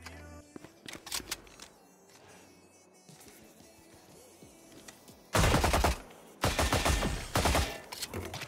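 The Frenzy pistol with the Oni skin fires in Valorant, with scattered quiet shots and handling noises early, then loud rapid bursts of automatic fire in the second half.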